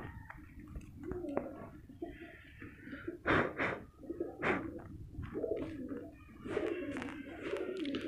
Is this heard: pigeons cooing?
yes